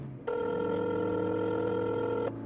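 A telephone rings steadily during an outgoing call, a continuous electronic ringback tone lasting about two seconds, clear and close, with no talking over it.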